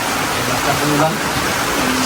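Heavy rain pours down steadily during a flood, a dense, loud hiss of water striking surfaces, with people talking faintly beneath it.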